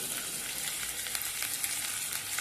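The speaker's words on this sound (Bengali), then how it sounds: "এবারে এগুলোকে একটু হালকা করে ক্যাপসিকামগুলোকে ওর সঙ্গে ভেজে নেব" Capsicum fries in oil for mixed fried rice, giving a continuous moderate sizzle with fine crackling spatters and no voices.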